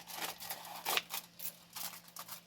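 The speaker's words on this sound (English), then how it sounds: "Okay, so then you take the scissors. I'm going to try to just cut it kind of evenly along here." Scissors snip through thin aluminum foil in a series of quick crinkly cuts with short pauses between them, faint and close.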